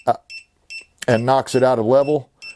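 Sharp electronic beeps from an OMMO 16-line green laser level's out-of-level alarm chirp in short bursts at the start, then a voice talks over the final stretch as a few more beeps sound.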